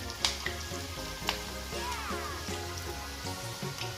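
Sweet murukku fries in hot oil with a steady, close sizzle and bubbling, broken by a few sharp pops and light clinks of a utensil, with no talking.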